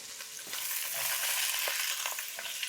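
Lemongrass chicken stir-fries in a hot pan with a bright, steady sizzle, a few soft clicks of a utensil breaking through; no talking.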